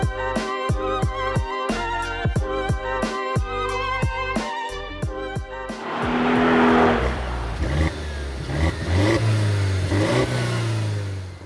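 A Mercedes R172 SLK sports car engine, manual transmission, revs in sharp, repeated bursts, then settles into a loud, sustained roar with rising and falling pitch as it accelerates.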